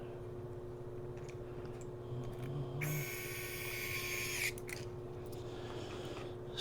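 A motorized driver tightening screws into a CN3D Toolhead V4 3D printer toolhead assembly gives a brief steady whir of about two seconds mid-clip over a low hum, with no talk.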